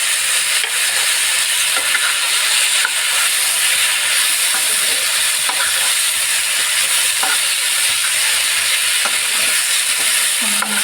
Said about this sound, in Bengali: এবার সর্ষে পোস্ত বাটাটা দিয়ে দিচ্ছি